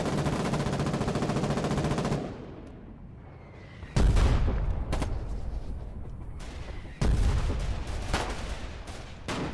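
A turret in the war game Foxhole fires long, loud bursts of rapid machine-gun fire, with a close sustained stream, a pause, then two more heavy volleys that echo away.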